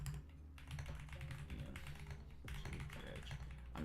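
A computer keyboard clacks steadily under fast typing, dense rapid key taps at close range with no talking.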